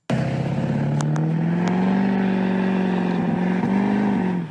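A diesel truck revs while rolling coal, a loud, close, steady engine drone that holds and rises slightly over several seconds with a low rumbling tone.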